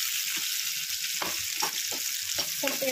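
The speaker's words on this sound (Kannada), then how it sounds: "ಸ್ವಲ್ಪ ಎಣ್ಣೆ ಚಂದ ಉಳ್ಳಾಗಡ್ಡಿ ಕೆಂಪು ಆಗೋದಕ್ಕನ ಚಂದ ಕಲಿಸ್ತಾ ಇರ್ರಿ." Onions frying in oil for a North Karnataka-style brinjal palya, a steady close sizzle with soft scraping stir strokes breaking through it.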